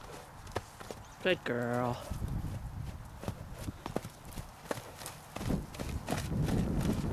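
A horse (a mare) cantering, with quick rhythmic hoofbeats clip-clopping close by while a rider speaks briefly to it over the steps.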